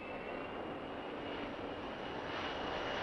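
An airplane engine drones steadily and continuously, a loud, even roar that holds without a break.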